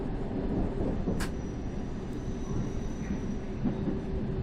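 A London Underground train pulling into Aldgate station in a train simulator game, a steady low rumble of the cars with a faint squeal and a brief click.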